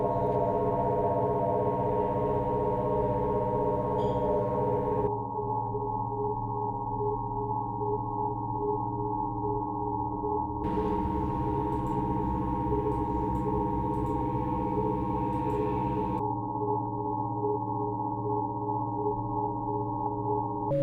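Room audio feedback in a feedback ecosystem: dense sustained tonal drones layered with steady hum, interrupted by abrupt cuts where the upper hiss vanishes and returns, loud and continuous with no talk.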